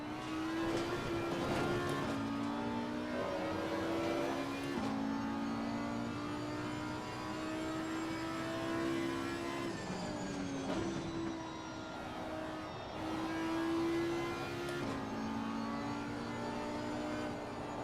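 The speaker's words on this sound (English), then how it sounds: "As you can see, listen to the sound. V10, naturally aspirated." Naturally aspirated V10 engine of an Audi GT4 race car in Assetto Corsa Competizione, revving hard through repeated upshifts and lifts on a lap, loud and close with rising howling tones and brief drops between gears.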